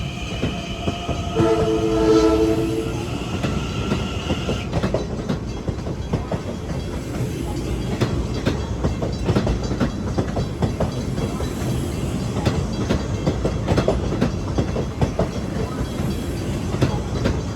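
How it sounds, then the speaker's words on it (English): At night at Bethpage station a train sounds its horn in a few sustained blasts. A steady, rumbling pass with rhythmic wheel clatter follows and keeps going to the end. "Warning. Second train coming."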